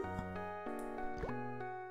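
A dripping water tap in the Simon the Sorcerer 2 video game gives a few soft, separate drips, faint beneath steady tonal game music.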